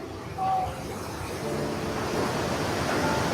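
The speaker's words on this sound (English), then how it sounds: "This is the tallest waterfall in Wales" The 73-metre waterfall in Wales, the country's tallest, gives a steady broadband roar of falling water mixed with wind buffeting, continuous and fairly loud throughout.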